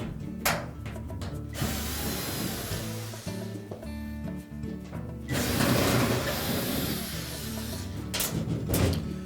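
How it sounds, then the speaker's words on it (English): A tool works out the two retaining screws on the back panel of a Whirlpool washing machine, making a continuous, close ratcheting and whirring with a few brief breaks over roughly nine seconds. "our next step is to remove the 2 retaining screws"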